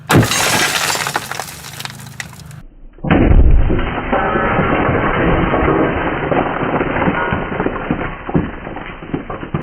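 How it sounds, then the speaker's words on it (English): A buried explosive charge goes off in a rock borehole weighted with rocks, a sudden loud broadband blast after a brief silence, followed by sustained rumbling and debris clatter lasting several seconds. "when it goes off, the more compression it has to force in, it forces more of that blast down through the rock"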